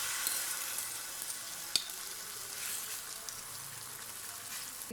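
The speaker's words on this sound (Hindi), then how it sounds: "ये हम अंडे का मिक्सचर डालेंगे तवे के ऊपर।" Egg mixture sizzling in desi ghee on a hot tava for a Mughlai egg paratha roll, a steady, close hiss of frying with a single small clack partway through.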